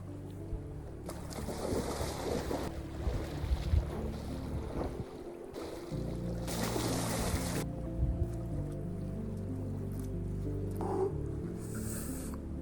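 Wind blows hard along the seashore at Lindesnes Lighthouse, a loud, steady roaring rush close to the microphone with stronger gusts swelling through, and no voices.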